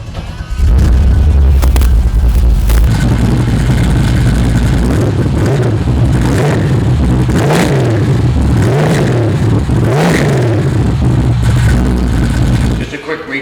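A 1969 Camaro SS with a RamJet 502 V8 fires up and settles into a loud, close idle, then gets blipped through several rising revs, with the engine's deep rumble carrying to the end.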